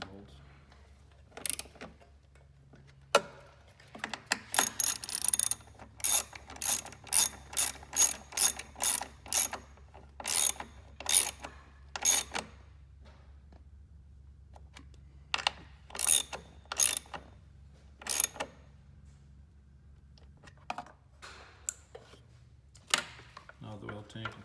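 Ratchet wrench tightening the three mounting bolts on a motorcycle chaincase cover, sharp clicking bursts in quick rapid runs separated by pauses, close and clear over a quiet background hum.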